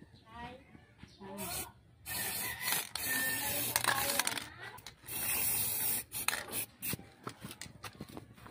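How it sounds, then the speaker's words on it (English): Silver spray paint hissing from an aerosol can onto a paper basket in long, loud bursts separated by short pauses, close up, with some rustling and a few faint voice sounds. "Just color this with the spray paint."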